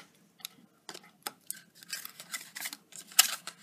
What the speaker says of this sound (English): what I'm going to do is just cut a wedge out of this piece